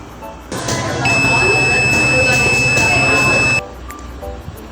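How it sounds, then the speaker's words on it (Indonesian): A steady electronic beep tone from a multimeter continuity buzzer sounds for about two and a half seconds, with faint background noise before and after it. "tekan 2 kali sampai muncul tanda buzzer"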